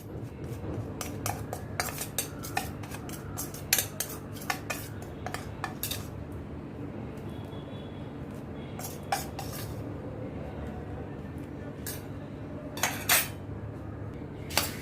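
Puffed rice is mixed with red chilli powder, turmeric, black salt and dry mango powder in a large metal plate for low-oil chivda, producing a busy run of metallic scraping, clinking and rustling strokes.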